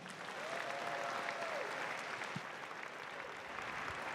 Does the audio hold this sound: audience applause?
yes